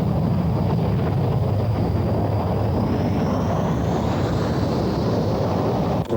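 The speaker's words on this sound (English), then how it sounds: "These are RAF Tornado GR-1s." RAF Panavia Tornado GR-1 jet aircraft flying, a steady loud roaring wash of jet noise with a slowly rising whine, continuous throughout with wind buffeting and no talk.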